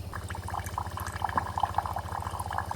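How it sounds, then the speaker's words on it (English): Water streams steadily from a countertop filter dispenser into a cup, a continuous close-up trickle and bubbling pour over a low pump hum, with no talking. "Then you click this water droplet right here, and it will start dispersing water right into your cup."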